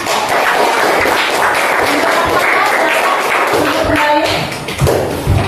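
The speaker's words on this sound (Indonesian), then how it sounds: "Untuk kelompok kedua, mari kita beri aplaus karena sudah berani tampil ke depan" Classroom of students applauding a presenting group: steady, dense clapping from many hands fills the room at close range for several seconds, fading slightly near the end with a few louder thumps.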